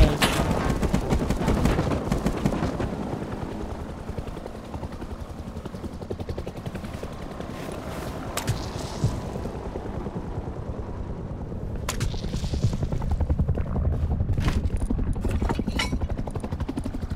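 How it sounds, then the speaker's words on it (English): Attack helicopter in the survival game Rust roars close and loud for the whole stretch, its rotor drone mixed with rapid machine-gun bursts and scattered impacts. "I thought the attack helicopter was far away."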